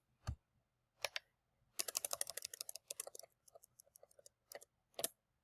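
Calculator keys tapped in a quick series of sharp, close clicks, a few isolated presses then a dense burst of typing, with faint hum underneath and no talking.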